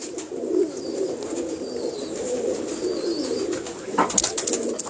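A pigeon of an old breed, close in colour to its ancestral stock, coos in a soft, repeated low murmur that carries steadily, with a brief sharper sound near the end.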